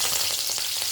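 Curry leaves and small shallots fry in hot oil, making a brief, close, bright crackling sizzle with no voices.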